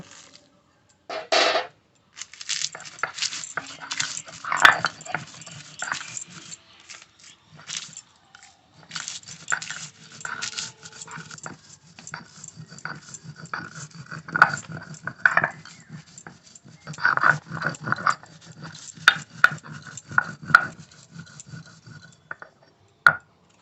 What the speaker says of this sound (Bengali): এবার লঙ্কাটাও বেটে নেব